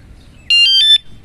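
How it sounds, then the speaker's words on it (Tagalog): An AliExpress anti-theft alarm gives its arming tone: a loud, clean electronic beep sequence of about three short tones in quick succession, half a second in all, alone with quiet room noise around it. "Ayan, so naka-activate na yung anti-theft alarm natin."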